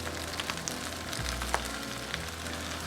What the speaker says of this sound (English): Now add some soy sauce